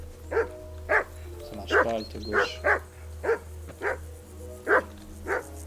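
A dog barks in the medieval role-playing game Kingdom Come: Deliverance II, loud, sharp barks repeating about every half second over a steady low game hum, with brief speech in between.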